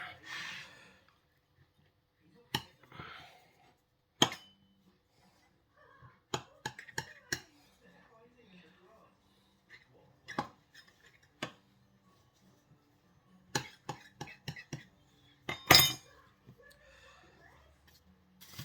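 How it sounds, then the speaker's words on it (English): A knife trims excess pastry from the rim of a quiche case, giving a sparse, irregular run of sharp, quiet clicks and scrapes with pauses between cuts. "with my knife I'm going to take off a little bit off the edge"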